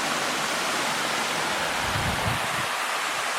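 A river on a nature trip rushes steadily, a constant broadband roar of flowing water with a brief low swell near the middle and no voices.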